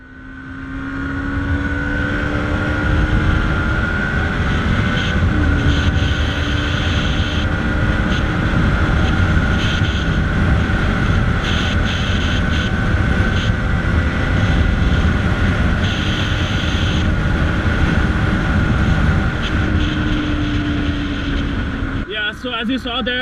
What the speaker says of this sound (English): the bike was doing 100 kilometers per hour in no time, and I was in third gear or something